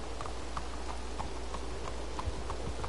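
Steady clip-clop of horse hooves trotting at an even rhythm, mid-distance, over a constant low background hum, in the video game Red Dead Redemption Online.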